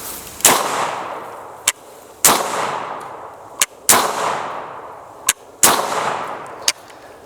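Pistol shots fired at a range from a handgun topped with a Holosun optic: five sharp, loud reports spaced about a second or more apart, each with a short ringing decay, interleaved with fainter single cracks.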